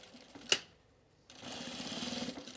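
A sewing machine starts stitching a 5/8 inch seam on jeans after a sharp click, running as a steady, moderately faint whirring buzz with a rapid needle rhythm.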